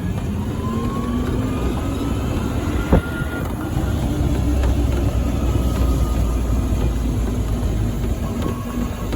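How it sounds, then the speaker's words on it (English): A white, fully reconditioned Mercedes-styled GEM E-4 electric car driving a lap, with faint, thin brake squeals drifting over a steady rolling, rumbling road noise throughout. "Probably hearing a little bit of the brake sound"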